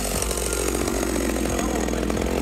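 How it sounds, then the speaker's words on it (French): A chainsaw cuts a hole through the ice of a frozen quarry for ice diving, its engine droning loudly and steadily throughout with small rhythmic load changes, close by and without talk. "On entend derrière les magnifiques musiques de tronçonneuses."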